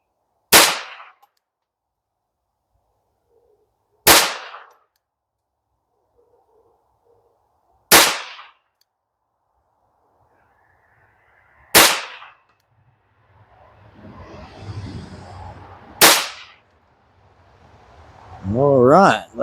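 Five sharp .22LR pistol shots from a Ruger Mark II firing Remington Golden Bullet rounds crack out at even intervals of about four seconds, each loud and close, with quiet stretches and some shuffling and talk near the end.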